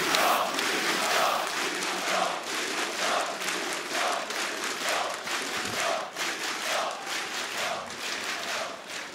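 Arena crowd at a CS:GO esports match, ESL One Katowice, chanting and cheering in a loud rhythmic pulse of massed voices that holds steady throughout.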